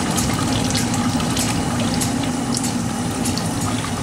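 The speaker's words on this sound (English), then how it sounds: "The cloth is washed thoroughly in plain water to remove most of the alum solution" Dyed cotton cloth being rinsed in plain water to wash out alum mordant during Bandhani tie-dye work in Kutch: steady close splashing and running water with a low pump-like hum, continuous throughout.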